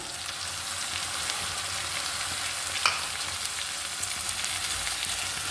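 Tomato masala with added coriander and mint frying for chicken biryani, a steady soft sizzle that hisses on throughout with one small sharp tick midway.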